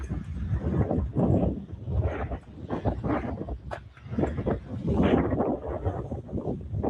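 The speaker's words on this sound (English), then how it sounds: "That wind's hectic." Gusty wind buffets a microphone fitted with a wind cover outdoors, producing loud, uneven low rumbling bursts that swell and fade over several seconds.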